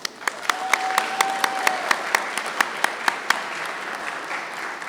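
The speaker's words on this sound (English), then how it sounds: "Please give this year's finalists a round of applause." A round of applause for STEM educator finalists at a ceremony at the Capitol, with a few distinct, sharp claps standing out over a steady bed of clapping for several seconds.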